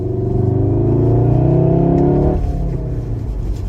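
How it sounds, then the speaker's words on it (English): A car engine roars loudly with a rising, throaty intake howl, then the revs drop off and settle into a rumbling idle. "Listen to these intake noises."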